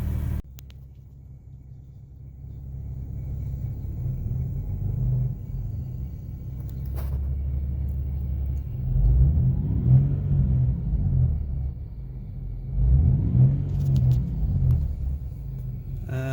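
A Nissan G37S coupe with an aftermarket exhaust rumbles with a deep, steady exhaust drone while driving, swelling louder in a couple of surges as it accelerates.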